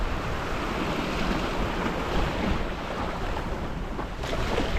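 Surf on Frenchman's Beach at Yarra Bay, a steady loud wash of breaking waves close by, mixed with wind buffeting the microphone, with no voices.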